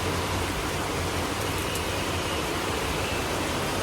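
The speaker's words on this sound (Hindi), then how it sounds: "बारिश हो रही है बहुत तेज" Heavy rain pours down in a dense, constant roar, loud and steady with no pauses.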